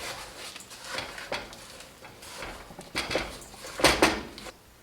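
Eggs and Italian-style breadcrumbs being mixed in a bowl, with soft scraping and clinking of a utensil against the bowl in irregular bursts, growing louder near the end.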